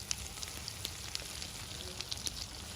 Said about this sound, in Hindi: और इनको हम शैलो फ्राई करेंगे।